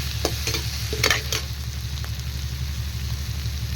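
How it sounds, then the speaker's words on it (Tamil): Chopped tomato and bottle gourd sauté in a pan for a South Indian chutney, giving a steady close sizzle of frying with a few scraping stirs near the start and no talking. "தக்காளி அப்புறம் சொரக்காய் ரெண்டையுமே போட்டுக்கணும்."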